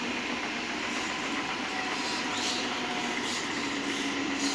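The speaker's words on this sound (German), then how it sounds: "Auf Gleis 1 fährt ein S3 nach Mammendorf." An S-Bahn S3 train pulls into a platform at Munich Hirschgarten with a loud, steady rumble and rushing roar, faint wheel squeal and clatter running under it throughout.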